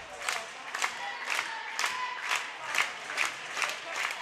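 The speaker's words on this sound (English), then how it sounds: "the Schulenburg Shorthorn crowd is loud on our side, and Sabinal Yellow Jackets, you can hear them on the other side as well" At a high school basketball regional semifinal between the Schulenburg Shorthorns and Sabinal Yellow Jackets, a distant crowd cheers in a steady rhythm, with regular bursts of clapping or chanting about twice a second. The sound is fairly faint.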